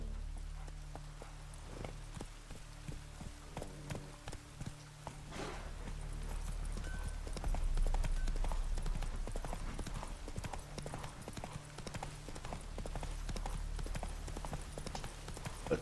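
Roach, the horse from the video game The Witcher 3, walks along with a steady clip-clop of hooves that runs throughout, moderately close, with a low ambient game score underneath.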